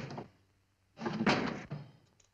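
A kitchen door in need of repair thuds and rattles as it is worked open and shut. The clunks are close and fairly loud and come in two bursts within a quiet room.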